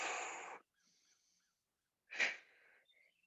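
Strong exhaled breath during a yoga belly-squeezing exercise, a long airy whoosh followed after a pause by a second sharp forceful breath, close and clear with no talk.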